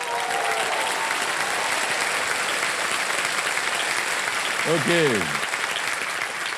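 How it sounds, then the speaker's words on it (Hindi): Studio audience on a TV quiz show claps in a steady, sustained round of applause; a voice speaks briefly over it near the end. "हाँ, तो एक बार ताली बजाइए ना।"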